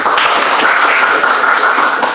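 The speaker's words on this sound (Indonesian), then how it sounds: "tepuk tangan ya" Classroom applause during an Indonesian primary school lesson, a loud, steady roar of many children clapping together close by, with no talk over it.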